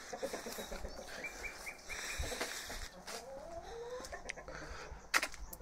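Chickens kept inside a homemade brick coop cluck softly and intermittently, a few calls rising over low background noise at moderate distance.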